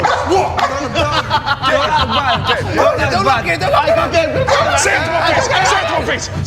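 An angry dog barks in repeated bursts, mixed in with people talking loudly and laughing close by.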